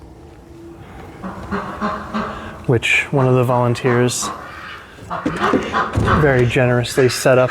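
Ducks housed inside a greenhouse quack and chatter in the background, mostly faint and partly drowned out by a person speaking close by.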